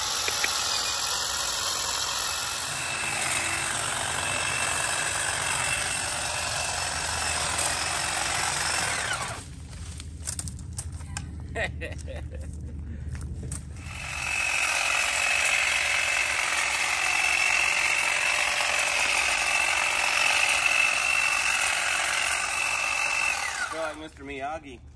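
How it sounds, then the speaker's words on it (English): A powered trimmer cuts a bush during yard work, making a loud continuous buzzing drone that drops away for a few seconds partway through and then resumes at full strength. A voice can be heard faintly under the machine. "Trim the bush, Daniel-san."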